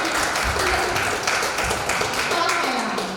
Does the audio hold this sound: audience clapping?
yes